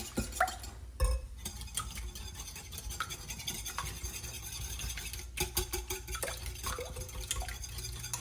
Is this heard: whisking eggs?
yes